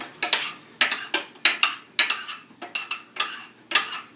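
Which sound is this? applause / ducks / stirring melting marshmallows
stirring melting marshmallows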